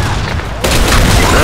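Grenade explosion in a video game, a loud, sudden blast that cuts in partway through and fills the rest of the moment with a dense roar over ongoing game noise.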